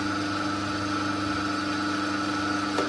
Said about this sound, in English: fire the vise, fire the lathe